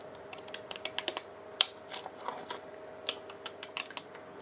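Scissors snip their way around a paper cutout for a journal, giving a run of light, crisp clicks at an irregular pace, close by and quiet.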